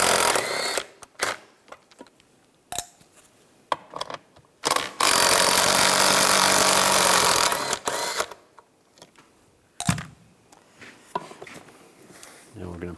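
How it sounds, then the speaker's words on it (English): A 13 millimeter socket on a ratchet or power tool removes nuts from a Chevrolet Tahoe seat, with sharp clicks and clatters and one long continuous whirring burst in the middle. "Use a 13 millimeter socket. Take those nuts out."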